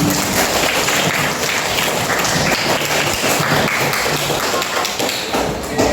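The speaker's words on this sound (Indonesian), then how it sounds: "Oke, tepuk tangan." A classroom group claps together during a teaching simulation, a loud, busy patter of many hands with thumps and taps running continuously for six seconds.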